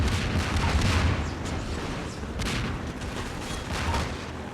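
Rocket explosions and gunfire in Half-Life 2 on Xbox: a dense, loud barrage of booms and blasts running throughout, with sharp hits near the middle and no talk.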